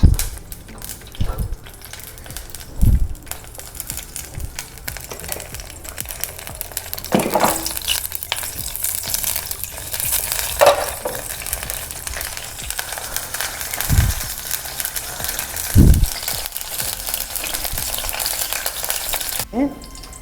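Cashews fry in ghee with a steady, close sizzle, while a spoon stirs and scrapes through the pan in occasional knocks. No one speaks.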